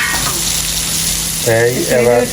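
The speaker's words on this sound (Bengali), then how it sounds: "আমাদের পেঁয়াজ ভাজি হয়ে গেছে এখন একটু রসা দিয়ে দিচ্ছ না হ্যাঁ, যাতে পেঁয়াজটা পোড়া না লাগে" Fried onions hiss and sizzle steadily in a hot pan as a little liquid is poured in, the frying noise strong and close throughout, with a voice speaking briefly near the end.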